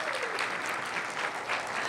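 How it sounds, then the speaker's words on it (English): Strong, continuous applause from the audience at a swearing-in ceremony for new commissioners, a full, even roar of clapping held for the whole two seconds. "Give him a big round of applause"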